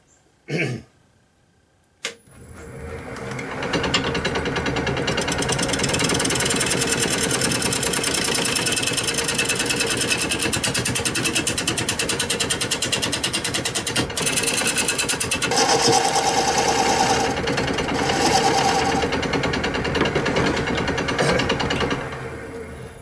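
A wood lathe turns end-grain wood for a tree-shaped vase while a tool cuts a concave base and a tenon, giving a continuous, fairly loud whirring scrape that runs for about twenty seconds after a short quiet start.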